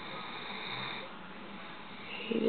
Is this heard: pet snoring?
yes